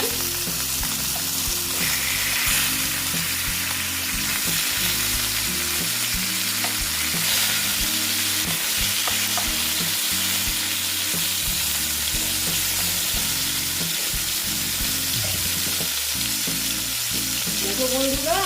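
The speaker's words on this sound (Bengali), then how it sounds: "আমার মাছ ভাজাটা হয়ে গেছে এবার আমি মাছ মাছগুলোকে তুলে দেবো" Rohu fish pieces frying in a pan for a mustard-poppy seed curry make a loud, steady sizzle that runs unbroken throughout, with occasional stirring clinks and no voices.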